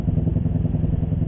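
A motorcycle engine runs steadily on a mountain road, a loud, close, continuous low throb with rhythmic pulsing and no voices over it.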